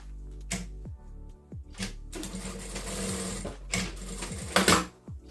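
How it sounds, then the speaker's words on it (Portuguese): A sewing machine runs in short bursts as it stitches fabric, a rapid mechanical whirring broken by brief pauses and clicks, close and loud with no talk. "E vamos costurar."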